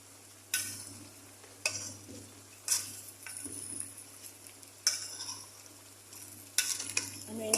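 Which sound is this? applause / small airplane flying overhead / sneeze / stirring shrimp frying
stirring shrimp frying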